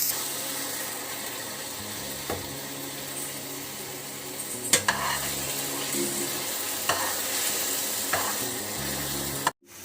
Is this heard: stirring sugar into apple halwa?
yes